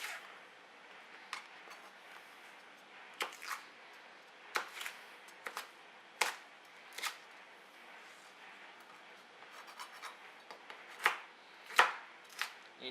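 A knife chops red pepper into chunks on a board, giving sparse, crisp, irregular thuds, some single and some in quick pairs, fairly quiet and close with no talk.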